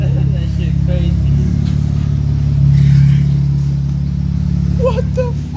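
A BMW E36 with a muffler-delete exhaust idles loudly and steadily with a deep, constant drone throughout, while people talk excitedly over it.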